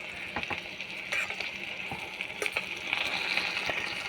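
Patties frying in a pan while being turned with a titanium spatula: steady sizzle throughout, with scattered scraping and tapping clicks of the spatula, close by.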